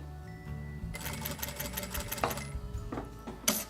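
Sewing machine stitching a wallet, a quiet, rapid mechanical clatter that starts after a short pause and runs in bursts, ending with a sharper click, close and without talk.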